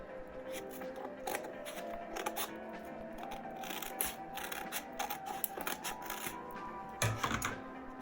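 Scissors carefully snipping open paper zine mail, a run of close, crisp cuts and crinkling paper through the clip with a louder burst of snipping near the end, no voice over it.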